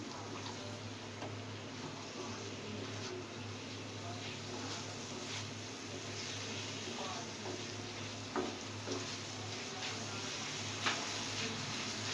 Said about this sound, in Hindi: लेमन डाला। मिक्स करेंगे इसे।